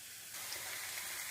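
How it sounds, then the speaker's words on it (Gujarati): Green garlic and onion tempering sizzles in hot oil, a soft, steady hiss that rises briefly, with a short sharp sound at the end. "લીલું લસણ અને ડુંગળીનો વઘાર કરી લીધો છે"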